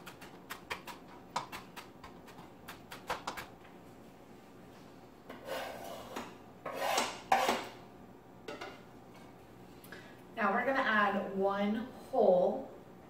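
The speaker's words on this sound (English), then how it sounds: "we're going to take 2 jalapeno peppers. We're going to chop them up and put it into our skillet for saute." A knife chops jalapeno peppers on a board for chili, with a quick run of close, crisp taps at the start and a few scattered cuts later, mixed with scraping and talking.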